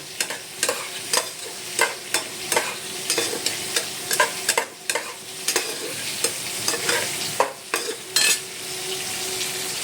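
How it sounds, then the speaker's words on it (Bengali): Boiled beetroot, carrot and capsicum are stirred in a hot kadai frying pan, with a soft sizzle throughout and a steady run of sharp spoon-on-pan scrapes and clicks, close and fairly loud. "কড়াইতে বন্ধুরা আমি বিট, গাজর, ক্যাপসিকাম দিয়ে ভালো করে নাড়ছি।"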